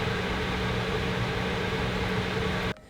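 An XFX RX 580 graphics card's cooling fans run at 100%, a steady, dense broadband whoosh with a faint hum, continuous and close until it cuts off abruptly near the end.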